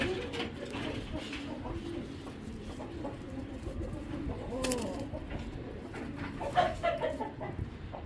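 Pigeons in a loft of big, heavily muscled birds, including a black checker and a blue checker male, coo and call repeatedly at close range over a steady background of bird noise, with someone talking intermittently.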